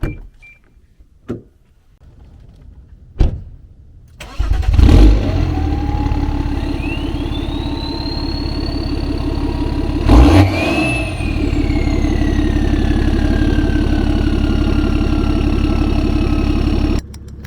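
A BMW E70 X5 diesel engine cranks and starts close by after a few faint clicks, then settles into a steady idle, with one sharp rev midway before it drops back to idle. No one speaks.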